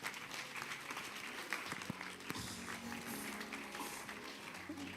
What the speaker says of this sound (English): with a big round of applause, please help me welcome Engineer Patricia Obunai